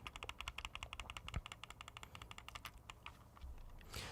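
Rapid, light plastic clicks from the paddle button of a Razer Basilisk Ultimate mouse repeat in quick succession, close and crisp, then slow and fade near the end.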